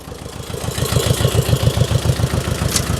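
A mini tractor engine runs with its power take-off shaft engaged to drive a homemade auger branch shredder. It gives a steady, fast, pulsing chug at close range with a brief higher hiss near the end.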